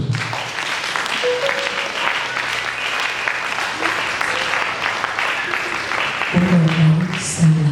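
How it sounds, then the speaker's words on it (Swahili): A church congregation claps in sustained applause during an evening revival seminar, dense and loud, with a voice speaking over it toward the end. "mpigie Yesu makofi mazuri"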